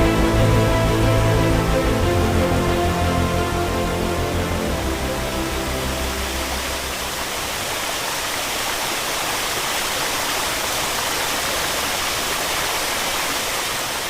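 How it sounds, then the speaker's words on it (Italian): The Saltone waterfall on the Mis river in the Dolomiti Bellunesi roars as a steady, dense rush of water, loud and unbroken for the whole stretch, with no voices. "Questa è la cascata del Saltone."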